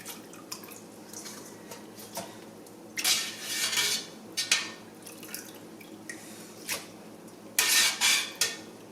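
A big cheese spoon scoops curds into a bowl and colander, with metallic scraping and clinks, wet splashing bursts of whey, and dripping between scoops, close and fairly loud.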